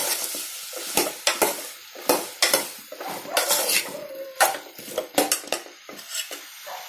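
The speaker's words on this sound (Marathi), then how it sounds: "भोपळ्याचे पीसेस घालणार आहे। आता हे नीट परतून घेऊया आपण।" Red pumpkin pieces sautéed in a pan for a vegetable bhaji, with loud close clatters and scrapes of a spatula against the pan in quick irregular strokes over a light sizzle, no talk.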